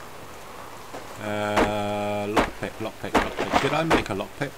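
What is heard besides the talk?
rain in video game Subsistence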